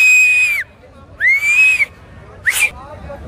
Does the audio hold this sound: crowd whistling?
yes